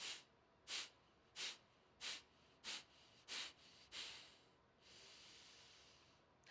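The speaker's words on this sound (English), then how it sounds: "take a gentle deep breath, inhale, and then sharp exhale" A demonstration of a breathing exercise: seven forceful, sharp nasal exhales in a steady rhythm, close and distinct, then a longer, softer breath to finish, with no talking.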